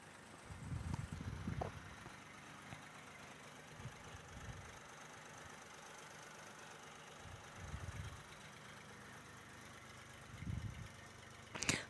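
A tractor engine idles low and steady at a distance, with occasional deeper rumbling swells and faint background hiss.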